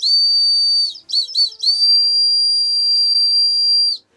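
A shrill Tesla CyberWhistle, metal, blown hard in long piercing blasts, briefly broken by a few short toots, then one sustained blast that stops.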